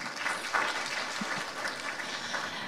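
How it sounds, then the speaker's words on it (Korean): An audience applauds at a seminar explaining new technology and new product certification, a steady, fairly faint spread of clapping across the hall with no talk. "우리 박희윤 담당자님께 다시 한번 감사의 박수 부탁드립니다."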